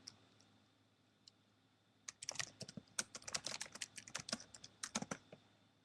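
Fingers type a quick message on a computer keyboard, a rapid flurry of faint, close key clicks that begins after a couple of seconds of near silence.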